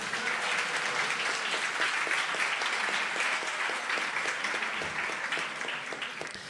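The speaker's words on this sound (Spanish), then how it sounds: "Un aplauso que Juan oiga desde el váter" Studio audience applause for a comedy show, sustained dense clapping at moderate level that holds steady and then eases slightly toward the end.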